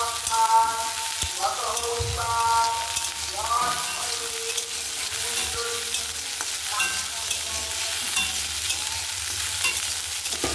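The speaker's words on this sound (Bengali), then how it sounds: "এবার একটু কড়াই ভেজে নেব, মানে কড়াই মটরশুঁটি, যেগুলো খিচুড়ির মধ্যে দেবো, ওটা একটু ভেজে নেব।" Peas fry in a pan for khichuri, a soft steady sizzle under scraping and clinking as a spatula stirs against the metal, with a few louder knocks along the way.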